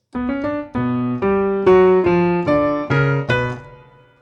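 Piano notes played with both hands at once, a short descending phrase of separate struck chords, each ringing briefly before the next, clear and close.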